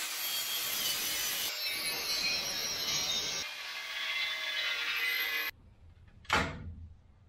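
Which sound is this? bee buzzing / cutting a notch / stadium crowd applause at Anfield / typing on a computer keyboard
cutting a notch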